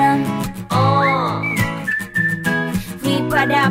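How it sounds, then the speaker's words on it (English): Melodic whistling within a pop song, a bright wavering line that glides and holds notes over steady backing music, loud and close. "휘파람"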